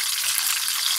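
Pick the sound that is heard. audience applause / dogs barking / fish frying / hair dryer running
fish frying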